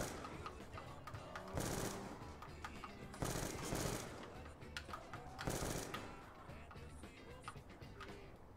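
Bursts of video game gunfire at a streamed match, three loud broadband volleys spaced a couple of seconds apart over a dense backdrop of game sound.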